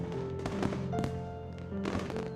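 Fireworks in the visual novel game Katawa Shoujo, several sharp bangs and crackling bursts layered over a sustained tonal music background, steady and fairly loud throughout.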